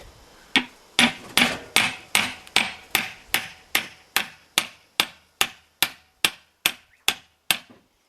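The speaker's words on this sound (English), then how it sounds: "like when I'm peening blades" A hammer strikes a metal sickle blade on an anvil in a steady rhythm, about fifteen sharp ringing blows, close and clear with no talking.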